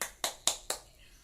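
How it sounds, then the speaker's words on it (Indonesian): A classroom of children claps for a student in a few quick, sharp hand claps, about four distinct slaps spaced evenly, fairly faint and close, with no voices over them. "Beri tepuk tangan pada Nino ya anak-anak."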